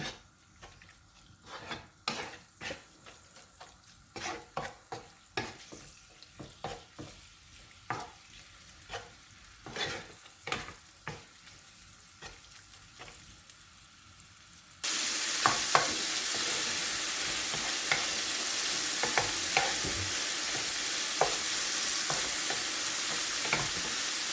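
Vegetables with spices, cream and cheese such as emmental or mozzarella stirred and frying in a pan: repeated scraping stir strokes over a soft sizzle, then a much louder, steady sizzle fills the second half, with no talking.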